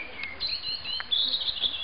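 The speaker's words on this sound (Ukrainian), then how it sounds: "напевно, ви відчуваєте, як співають пташки" Faint high bird chirps and tweets over a soft outdoor background hum, small birds calling intermittently in the distance in the Dibrova woodland tract.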